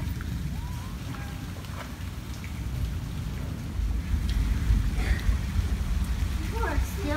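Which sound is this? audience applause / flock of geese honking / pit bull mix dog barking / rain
rain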